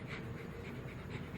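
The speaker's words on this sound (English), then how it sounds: "So here's my dog saying bye-bye." A dog pants close to the microphone in quick, steady, rhythmic breaths, with no talking.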